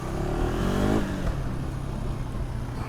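A 2025 KTM 390 Adventure motorcycle rides on a paved road, its engine note climbing through a rev before easing into a steady drone with wind rush, heard from the rider's position.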